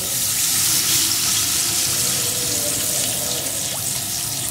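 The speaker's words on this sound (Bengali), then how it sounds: "এখন দিয়ে দেব পরিমাণ মতো জল" Water pours steadily into a pan of potato curry, where potatoes have been fried with salt and turmeric, making a continuous close rushing splash with no pauses.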